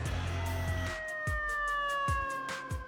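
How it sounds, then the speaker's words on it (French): A New York fire truck siren wails on a city street, a loud, sustained tone sliding slowly downward, with a low rumble and repeated thumping pulses underneath. "Leurs camions et leurs sirènes font partie du décor de la vie quotidienne."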